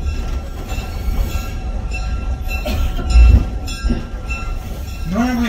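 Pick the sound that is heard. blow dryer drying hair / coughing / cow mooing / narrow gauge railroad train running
narrow gauge railroad train running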